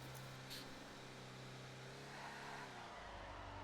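Car engine revving and droning steadily in a GTA roleplay driving game while drifting, a continuous mid-pitched motor tone with shifting pitch and a rising roar near the end, no talking.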